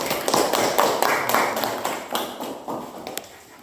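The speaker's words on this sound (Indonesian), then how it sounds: "Tepuk tangan." Classroom applause for a student group's presentation, a dense wash of many hands clapping steadily for several seconds before thinning toward the end.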